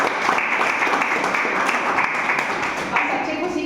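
An audience gathered at a group event breaks into continuous applause, a steady wash of many hands clapping at close range with voices mixed underneath throughout.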